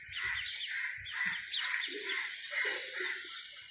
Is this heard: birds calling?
yes